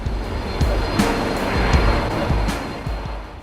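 Loud, continuous jet roar from an AV-8B Harrier hovering for a vertical landing on an aircraft carrier, a dense broadband blast with occasional thumps and surges.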